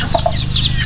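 Chicks and chickens in a Hmong village cluck and cheep in a lively, overlapping chorus, with several high peeping calls repeating close by and no talking.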